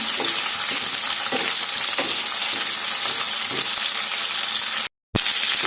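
Vegetables frying in oil for village-style hurulikalu sambar make a dense, continuous close sizzle with faint stirring knocks, cut off by a brief total dropout just before the end, no talking.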